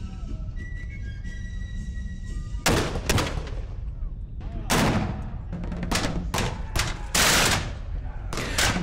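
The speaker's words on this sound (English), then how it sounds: "breaking through battles of artillery." Cannon and artillery fire in a Napoleonic-era battle at the Lines of Torres, with loud booming blasts and rattling volleys in irregular bursts over a steady low rumble, alone without talk.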